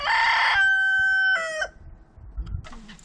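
A rooster named Nolbu crowing close by, one long loud cock-a-doodle-doo with a strained tail, followed by faint shuffling and a brief soft cluck.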